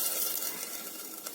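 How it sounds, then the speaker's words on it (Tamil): A steady, hissing rush of water pours into a cooking pot of drumstick lentil sambar for a moment, close and fairly loud, with no voices. "இன்னும் கொஞ்சம் தண்ணி சேர்த்துக்கோங்க."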